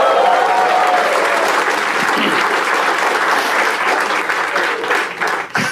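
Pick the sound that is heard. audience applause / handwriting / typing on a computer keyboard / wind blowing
audience applause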